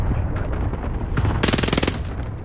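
Gunfire in Call of Duty Warzone Resurgence, with scattered shots followed by a loud rapid burst of automatic fire lasting about half a second.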